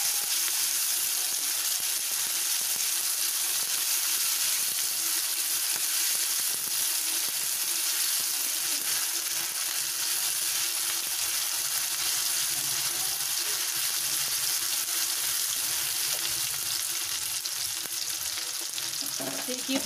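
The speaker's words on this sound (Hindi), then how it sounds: "इसे भून लेते हैं।" Onions with ginger-garlic paste fry in a pan for a chowmein, giving a steady, close sizzle with faint stirring throughout and no voices.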